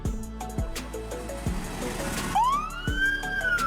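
A Slovenian ambulance, a Mercedes-Benz, Volkswagen or Renault, blares a loud, close siren with a steady alternating tone, then a rising wail sweeps up and holds, with no voices.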